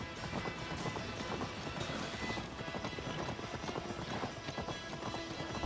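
Hooves pound in a fast, continuous gallop from a horse in the video game Assassin's Creed Valhalla, a dense rumbling clatter at steady volume with no talking over it.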